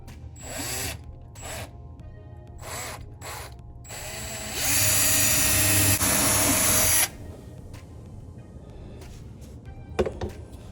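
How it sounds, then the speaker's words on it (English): A power drill whirs steadily for a couple of seconds drilling small pilot holes for a door hinge in an old house, close and loud, amid lighter clicks and tool handling before and after. "we're just going to drill a couple of small pilot holes"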